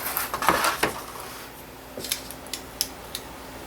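Dry leather being cut to shape for a custom knife sheath, a few rough snipping strokes at first, then sparse sharp clicks and taps, close by in a quiet room.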